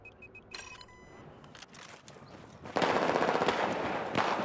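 Light machine gun in Battlefield 4 fires a sustained rapid burst, loud and close, after a few beeps and scattered distant shots, the automatic rattle running to the end.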